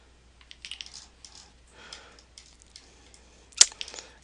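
Computer keyboard key presses at a desk, a few scattered light clicks and taps with a single sharper, louder click near the end, quiet and close with pauses between.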